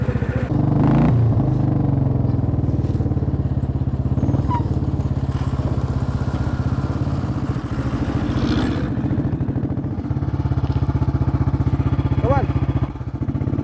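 A motorcycle engine drones steadily up close for the whole stretch, its throbbing low rumble rising and falling with throttle as the bike is ridden, with brief bursts of background noise on top.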